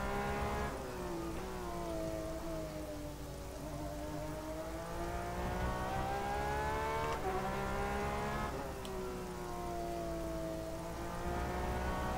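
Steady rain hisses through a night GTE race at Road America in the rFactor 2 racing game, with car engines droning and shifting pitch underneath the continuous downpour.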